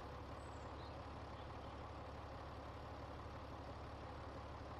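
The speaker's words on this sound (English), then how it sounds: "How about turn the tractor off?" A tractor engine idles in The Walking Dead game, a low, steady, continuous rumble that stays faint and unchanging throughout with no voices.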